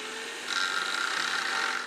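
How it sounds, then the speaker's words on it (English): A high, grinding whine of a circular saw with a metal-cutting blade biting into a metal pole, steady and loud, getting harsher about halfway through with no voices. "So I'm going to use this circular saw with a metal cutting blade."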